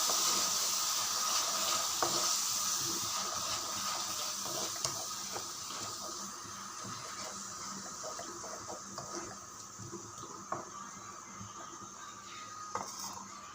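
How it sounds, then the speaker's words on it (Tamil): Ground masala of two onions and a tomato sizzles steadily in a hot pan, a soft continuous frying hiss with occasional light clinks and stirring scrapes, close and fairly quiet, no talking. "இந்த மசாலாவை ஊற்றுறது காய்ஸ். ஊற்றி நல்லா ஃப்ரை ஆகணும்."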